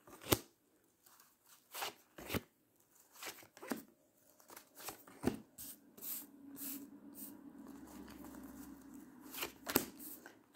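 Tarot cards are handled and drawn, giving a series of sharp, separate slaps and flicks spaced irregularly. A faint low hum runs partway through, and the sounds are quiet and close.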